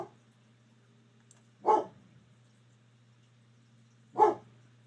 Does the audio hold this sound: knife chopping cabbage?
no